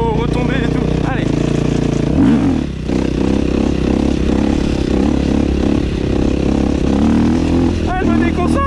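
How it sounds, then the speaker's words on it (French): Motorcycle engine revving steadily while doing wheelies on a dirt path and a paved road, a continuous loud engine drone with pitch rises and rattling clatter, wind and scraping mixed in close to the rider. "On va faire wheeling sur chemin et wheeling sur route."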